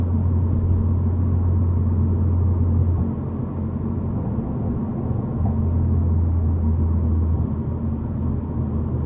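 Steady, loud exhaust drone inside a Hyundai Elantra N on a night drive, a deep rumbling hum that holds constant with a slight drop in pitch partway through, and no voices.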